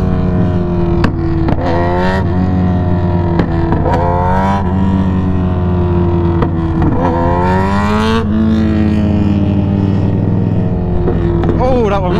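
Kawasaki ZX6R motorcycle on a night ride, its engine droning and rising loudly throughout with sharp exhaust pops and crackles scattered across the run, wind noise underneath.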